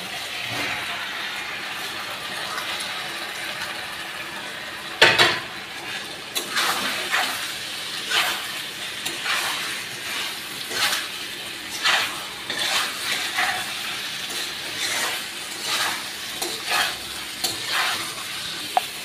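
Fried jackfruit hits a hot pan of spiced oil, giving a sharp burst of sizzle, then repeated rhythmic stirring scrapes and hissing bursts continue steadily at close range.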